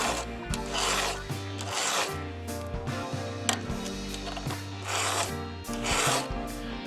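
A hand file rasps across a badly damaged chainsaw chain in steady, close, repeated strokes, about three swipes per tooth, with short pauses between groups of strokes and no talking.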